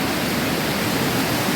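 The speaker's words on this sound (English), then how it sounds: "It's a really nice cascading waterfall." A cascading waterfall on Vancouver Island with a lot of water coming down, a steady, dense roar of falling water heard up close, continuous and unbroken with no voices.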